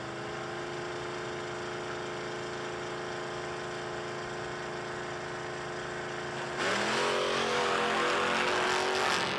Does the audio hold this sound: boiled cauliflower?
no